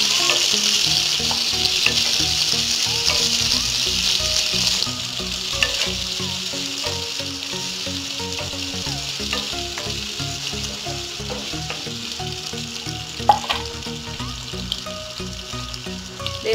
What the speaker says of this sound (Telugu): అల్లం వెల్లుల్లి పేస్ట్ కూడా ఫ్రై అయినాక మనం ముందు కట్ చేసి పెట్టుకుని పప్పాయ ముక్కల్ని